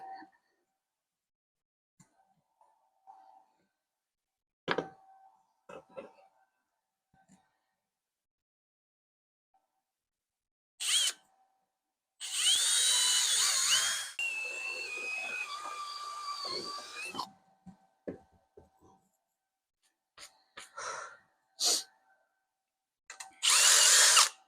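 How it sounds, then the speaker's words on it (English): Power drill boring holes through the steel body panel of a 1971 Datsun 510 under restoration, one long loud whining burst with a few short bursts and clicks before and after, close by. "So I'm going to drill these out."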